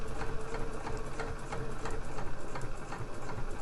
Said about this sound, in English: I'm just stitching along that line.